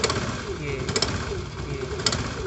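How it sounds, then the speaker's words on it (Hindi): An old-model Honda Activa scooter with a faulty clutch runs under throttle, its engine droning and rattling with uneven vibration. Someone talks over the noise. "इसकी क्लच में दिक्कत है। जैसे हम थ्रोटल देते हैं तो ये ज़्यादा वाइब्रेट करती है और आवाज़ भी"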